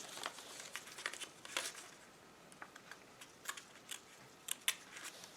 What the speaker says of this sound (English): I can fit my scissors through and just around the nose